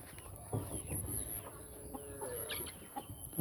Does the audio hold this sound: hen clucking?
yes